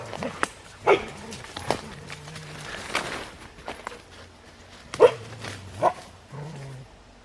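A dog barks in short bursts while running around, with footsteps and whimpers between the barks, close by and fairly loud.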